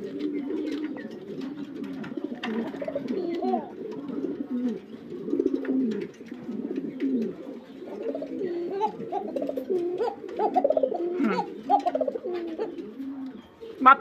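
A pigeon cooing steadily and fairly close, soft repeated low coos over about fourteen seconds with a faint chirp or two in the background.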